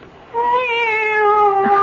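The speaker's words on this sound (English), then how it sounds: "It's the cat. She's back." A cat in a 1974 radio mystery drama gives one long, drawn-out meow, loud and close, that rises slightly and then holds steady.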